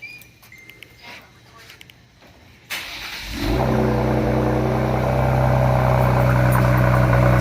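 A Ford Explorer ST with a Thermal R&D 3-inch exhaust cold-starts after a quiet, muffled stretch. The engine cranks, catches and settles into a loud, steady rumbling high idle that holds to the end.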